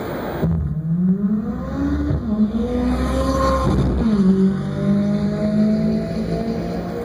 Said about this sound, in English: The noise this car makes is also pretty special.